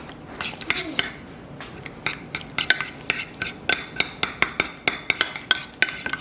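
Spoon clinking rhythmically against a bowl while horseradish and red hot sauce are stirred together, a close, steady series of sharp taps gathering pace.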